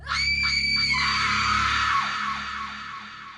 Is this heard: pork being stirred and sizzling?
no